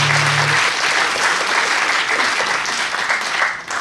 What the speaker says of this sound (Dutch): Nou, dat is echt een lang applaus, hè?